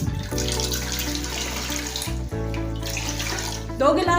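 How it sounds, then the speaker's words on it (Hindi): Water from a tap runs steadily into a medium-sized pressure cooker set on a lit flame, a continuous, fairly loud splashing and filling sound heard alone, about two glasses' worth being added. "तो सबसे पहले इसके अंदर पानी जाएगा तकरीबन 2 गिलास"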